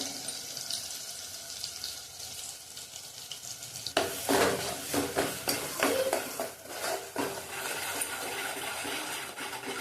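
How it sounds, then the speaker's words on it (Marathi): Spice masala for a chicken curry frying in oil over low gas, a soft steady sizzle that turns busier midway as spatula strokes scrape and stir through it. "तेलात भाजून घेणार आहोत चांगला। गॅस स्लोच ठेवायचा।"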